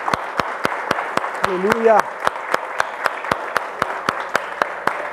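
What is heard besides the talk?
church congregation applauding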